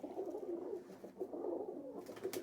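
Pigeons coo in low, soft, rolling bursts, a steady murmur of several birds close by, kept for sale in a group.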